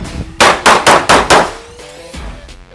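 Five rapid, loud shots from a Kimber Micro 9 pistol at a shooting range, cracking in quick succession, followed after a pause by a single fainter report; no talking.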